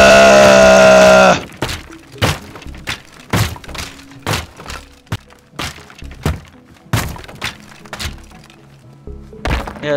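Objects breaking and crashing in the voxel destruction game Teardown: a dense series of sharp thunks, cracks and thuds repeating every half second or so, loud and close, following a brief sustained rumbling tone at the start.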